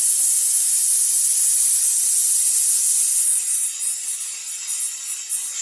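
Steam boiler releasing a loud, steady high hiss at close range, turning slightly uneven and pulsing toward the end, with no voices.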